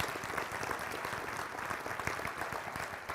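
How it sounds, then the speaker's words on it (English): An indoor conference audience claps steadily, a dense, even round of applause for a police honor guard and high school performers. "Let's give another round of applause to the Bend Police Honor Guard and the Bend High Dynamics."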